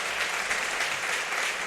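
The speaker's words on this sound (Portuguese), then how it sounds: "Aplauda o Senhor por isso." A church congregation applauds after a missions offering is brought to the altar, producing a short, dense, even wash of clapping with no pauses.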